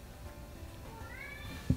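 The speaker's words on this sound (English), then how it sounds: "that was my cat meowing to get in the room" A domestic cat meowing outside a closed room to be let in, a single drawn-out rising meow, faint and slightly distant, followed by a short thump.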